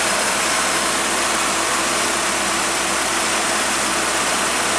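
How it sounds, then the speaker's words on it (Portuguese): A Volkswagen Santana with the AP engine idles smoothly and steadily, a loud, close, even drone that holds without change for the whole stretch, with no voices. "o motor já tá funcionando, redondinho, ó, o motor nem se mexe"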